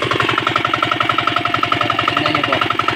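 Steady mechanical thumping of a farm water pump engine running at a constant idle-like pace, loud and close with a regular knocking rhythm and no talk.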